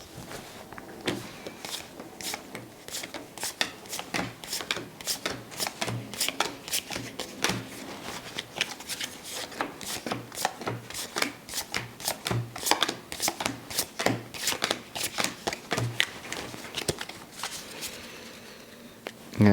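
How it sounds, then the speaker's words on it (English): A deck of game cards being reshuffled for a solo tabletop game, a long run of quick close riffles and soft flicks and taps, with no talking. "So we reshuffle the cards."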